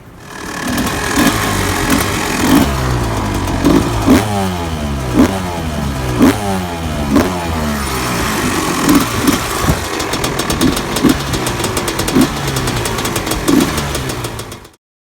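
Two two-stroke dirt bikes, an old Honda CR250R and a Yamaha YZ250, run close by for about fifteen seconds, with repeated sharp throttle blips and revs rising and falling over a steady, buzzy idle.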